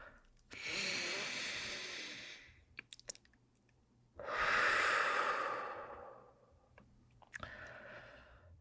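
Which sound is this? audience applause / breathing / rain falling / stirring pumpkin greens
breathing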